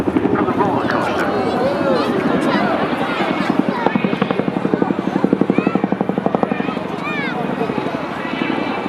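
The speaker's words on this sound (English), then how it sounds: "Watch the manoeuvrability now as Brett manoeuvres the aircraft using the full energy of the front and rear rotors" Twin-rotor Chinook helicopter manoeuvring at the Swansea air show, its heavy rotor chop loud and steady with a rhythmic thudding beat that grows more pronounced midway, wind buffeting the microphone and an announcer talking over it.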